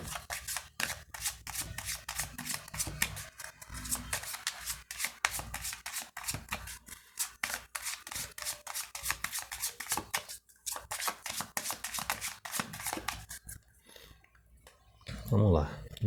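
A deck of Gypsy oracle cards, the Santa Sara baralho cigano, being shuffled by hand in a continuous, close, papery riffling and rubbing that runs for many seconds, then stops near the end.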